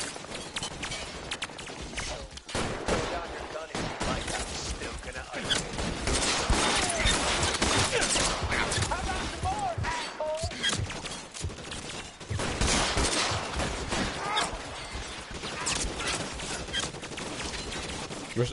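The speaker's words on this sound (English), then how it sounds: "Okay, the guy is shooting from up there." Gunfire from a shootout in the video game L.A. Noire, with dense bursts of shots and clatter running continuously and loudly through the whole stretch, with no clear speech over it.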